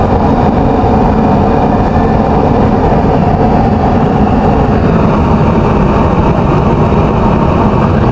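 Loud, continuous roar of a used-oil burner stove turned up to setting 6, burning used motor oil; a dense, close flame rush holds steady from start to end with no talking.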